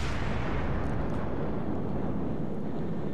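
Ship guns firing in World of Warships: a dense, loud continuous roar of heavy gunfire and booming blasts filling the whole moment, with no voices.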